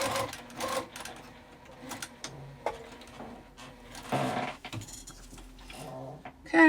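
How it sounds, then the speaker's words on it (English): A sewing machine topstitches vinyl on a zipper makeup bag, running in a few uneven bursts with stitching rattle. It is close and fairly steady, and there are short pauses and small handling knocks between runs. "Okay, let me top stitch the other one."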